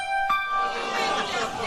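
Mad TV Lowered Expectations theme jingle, a brief bright chiming melodic phrase with shimmering tones, played under a lively, chattering background.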